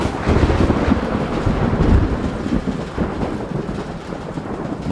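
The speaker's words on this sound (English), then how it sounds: "an incredible summer storm" Summer thunderstorm in Mobile, Alabama: a continuous heavy roar of rain and deep rolling thunder, loud and close throughout with no pauses and no voices.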